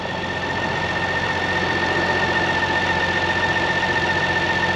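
A 2023 BMW K1600GTL touring motorcycle's six-cylinder engine idles at a steady, even hum with a faint high whine, close and constant for several seconds with no talking.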